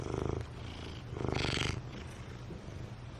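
A pet cat waiting for her food by the door, giving a soft, low purring rumble with a few louder swells, faint and close in a quiet room.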